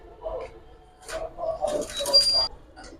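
Pigeons for sale, including green-necked Jabra-style birds, give soft, low cooing in short bursts nearby, interleaved with someone talking.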